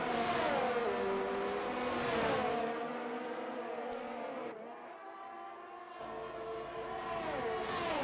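Several race cars in a racing video game scream down the main straight on the Portugal GP circuit, loud engine notes rising and falling in pitch as they pass, with a brief quieter lull in the middle before the roar returns.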